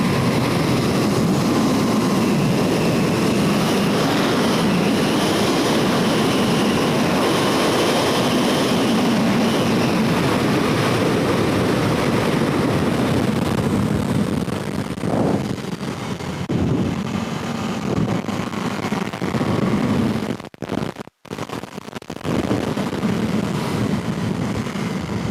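A 2020 KTM 1290 Super Duke R accelerates hard out of a corner and down a straight, its engine roaring loud and continuous beneath heavy wind rush, with a couple of brief dropouts near the end.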